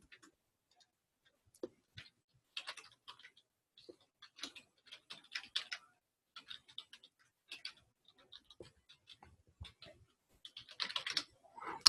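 Quiet, irregular keyboard typing, bursts of soft key clicks separated by short pauses, close by in an otherwise silent room.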